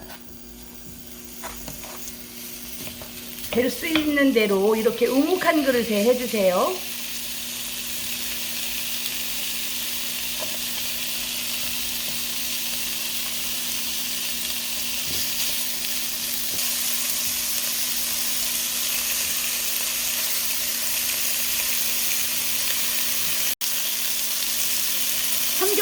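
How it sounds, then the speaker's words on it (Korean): Pork belly sizzles steadily in a hot pan, a constant crackling hiss that grows a little louder; someone speaks briefly near the start. "삼겹살을 익혀보겠습니다."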